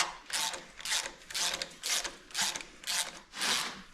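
Ratchet working bolts on a 1945 John Deere B tractor, with about seven rhythmic rasping strokes, each a short burst of fine clicks, close and moderately loud with no talk.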